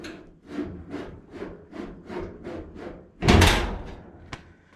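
A door on an early Ford Bronco build swings shut and scrapes against a misfitted fender, giving a repeated rubbing, dragging sound that ends in a loud, close wooden-sounding slam and a brief knock.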